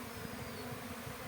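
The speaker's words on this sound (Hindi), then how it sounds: "तो यहाँ पर मधुमक्खी वापस आ रही है।" Honeybees from a small swarm buzz steadily and close by, a continuous low drone with no voices.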